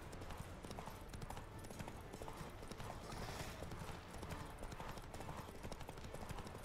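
Rhythmic clip-clop of a horse's hooves in The Witcher 3 video game, steady galloping hoofbeats continuing throughout amid game ambience, with a faint whinny possible.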